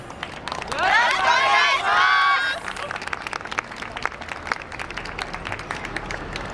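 A street crowd at a yosakoi dance festival performance applauds and cheers, a loud shout or whistle rising early before scattered clapping and murmur continue at moderate distance.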